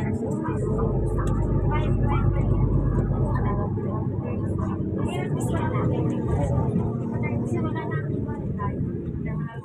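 An airplane flies near Hong Kong International Airport, a steady, deep engine rumble that holds throughout while people talk close by.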